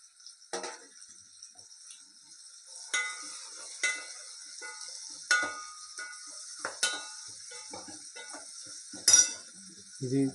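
Curry leaves crackle in hot oil in a village-style kitchen pot for pappu charu. A soft, steady sizzle runs under scattered metallic clinks and scrapes of a stirring utensil.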